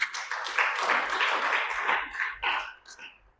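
A church congregation at a GBI service applauds, with a dense clapping swell that thins and fades out over a few seconds.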